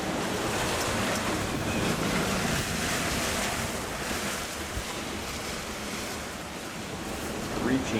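A sailboat under sail on the open ocean bound for Hawaii, with continuous wind buffeting the microphone and waves rushing and slapping along the hull, loud and close, without any talking.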